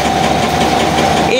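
Engine of a rice pounding mill machine running steadily with a constant drone and slight knocking vibration, close and loud, with a pitch shift near the end.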